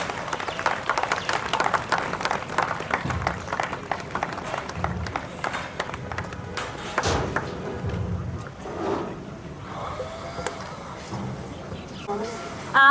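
Applause from an audience at a bank's Independence Day function, a dense steady patter of many hands that runs on and then thins out, with a compère speaking over it.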